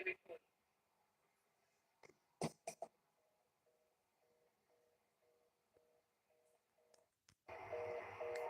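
Phone dialing tones as Roman Reigns makes a call in a WWE SmackDown broadcast: a quiet run of short, evenly spaced beeps after a few scattered clicks and thumps, ending in a sudden burst of loud noise.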